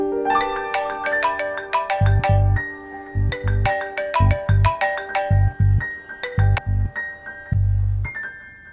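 A melodic phone ringtone plays loudly and clearly, a repeating electronic tune of bright notes with a pulsing rhythm, no voices.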